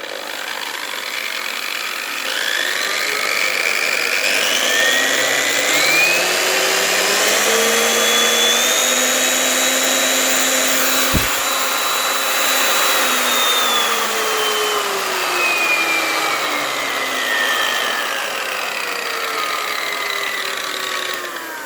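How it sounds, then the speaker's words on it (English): A Parkside PWBS 180 B2 wall sander with P120 paper and a vacuum attached gives a steady, loud whine with a vacuum-like roar, pitch slowly rising and falling over a long continuous stretch, one brief knock midway. "Now I will sand my wall. I will use the P120 and using of course the adapter connecting my vacuum"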